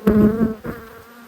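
Honey bees buzz loudly and close during a late-winter hive inspection as frames are lifted, a steady droning hum that swells and dips over about a second.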